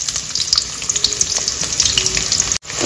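Oil heats and sizzles in a kadai while cooking a fish curry with taro: a steady, close, bright hiss runs throughout with small crackles, then briefly cuts out near the end.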